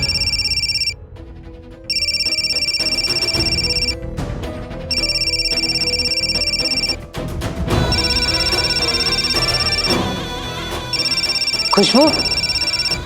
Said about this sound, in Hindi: एक मिनट फोन उठा लेना।